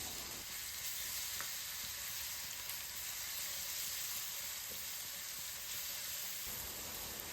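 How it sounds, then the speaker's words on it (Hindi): Garlic paste fries in a pan with golden onions, giving a steady, soft, continuous sizzle with a faint occasional stir and no voices. "अनियन गोल्डन होने के बाद इसमें हमने शामिल कर दिया लहसुन का पेस्ट और उसे भी थोड़ा सा भून"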